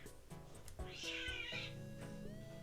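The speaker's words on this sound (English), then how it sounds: "Always cats fighting inside my window." Cats fighting just outside a window, yowling and caterwauling in drawn-out, wavering cries with a sharp hiss-like burst partway through, fairly close and loud, with no talking over them.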